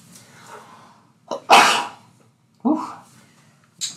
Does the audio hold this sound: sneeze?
yes